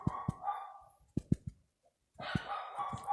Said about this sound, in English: I don't know why the dog is barking